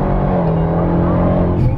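A 710-horsepower Dodge Durango Hellcat accelerates with a loud, close engine drone. Its pitch climbs steadily over a brief burst.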